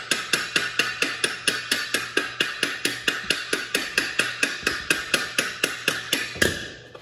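A hammer chips slag off a 3F stick weld with a rapid, even series of sharp metallic strikes, close and loud, stopping near the end.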